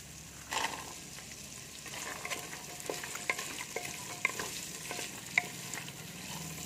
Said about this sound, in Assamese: ফ্ৰেঞ্চ বিন আৰু গাজৰখিনি 1 মিনিটমান লৰাই পেলাই